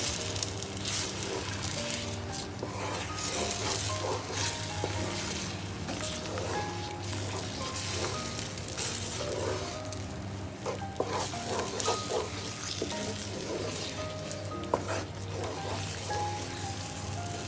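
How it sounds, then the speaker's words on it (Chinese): Radish cake batter stirred in a pan over the lowest heat, giving a steady, continuous scraping and soft sizzling texture that runs close and evenly throughout with no voices. "炒入的时候呢，我们立即搅拌， 开最小火煮哦。"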